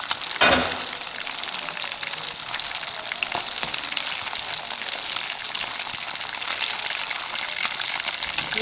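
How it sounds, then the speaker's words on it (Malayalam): Chicken fries in a pan for biryani at home on Eid, a loud hiss as it goes in followed by a constant, steady sizzle with a faint clink partway through. "അതിന് ചിക്കൻ ഫ്രൈ ചെയ്യണം"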